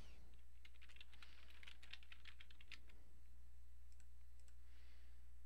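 Quick bursts of keystrokes on a computer keyboard as a web link name is typed, close and crisp over a quiet background hum, then a pause with a few isolated clicks.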